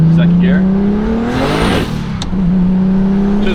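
A turbocharged car on a dyno pulls hard in second gear, its engine drone climbing steadily in pitch before a brief dip at the shift point and a loud rush, then resuming at high revs.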